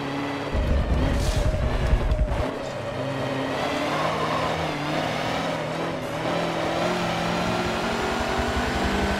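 A big truck races in Forza Motorsport 7, seen from a chase camera. Its engine gives a heavy, loud rumble for about two seconds, then settles into a steady, revving drone that lasts to the end.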